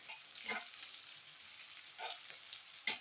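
Minced garlic fries in a pan, a steady soft sizzle broken by a few scraping stirs of a spoon, faint and close with no talking.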